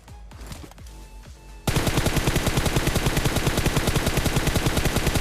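Gunfire in the video game PUBG: a few scattered shots and clatter, then a loud, sustained burst of rapid automatic fire with evenly spaced shots that continues to the end.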